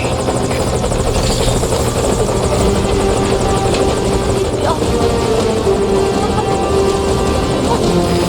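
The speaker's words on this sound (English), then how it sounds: "Put the target on the chopper." A helicopter hovers steadily in Metal Gear Solid V: Ground Zeroes, its loud, continuous rotor thrum and engine whine filling the scene without a break, with faint radio-style voices underneath.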